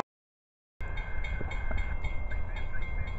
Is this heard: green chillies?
no